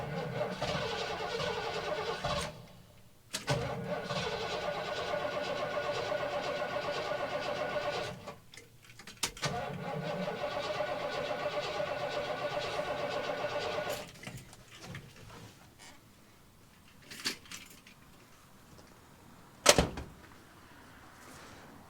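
A 1983 Ford F150 pickup engine cranking repeatedly as it tries to start, long whirring starter runs broken by short pauses, close and loud, with a sharp clunk near the end.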